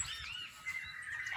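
Small birds chirp and tweet in a home garden with fruiting plants and roses, several quick high calls overlapping at moderate distance over a quiet background.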